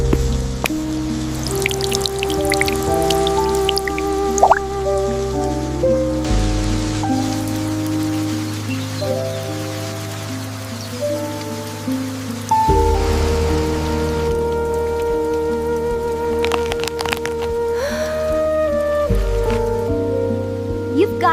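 Heavy rain pours steadily on a cold winter day, a constant soft hiss running beneath louder gentle music throughout.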